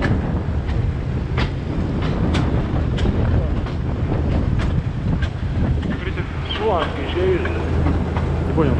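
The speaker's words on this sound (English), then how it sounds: "At 4:30, the train departs." A train in the Caucasus rumbles along with rhythmic clickety-clack beats over a heavy low roar and some wind buffeting; faint voices appear near the end.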